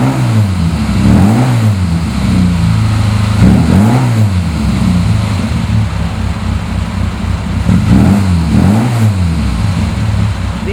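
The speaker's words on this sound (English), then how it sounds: "Full free flow exhaust, the upgraded engine, big carburetors." A 1960 Austin Healey Bug Eye Sprite with an upgraded engine, big carburetors and a full free-flow exhaust revs repeatedly, loud rising and falling engine sweeps in several bursts, close and raspy.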